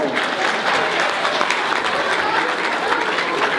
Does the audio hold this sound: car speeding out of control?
no